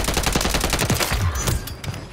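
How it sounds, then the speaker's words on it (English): Rapid, loud gunfire erupts close by in a trios battle royale game, dense overlapping bursts and volleys hammering almost continuously before easing off near the end. "God, what did he just shoot me with?"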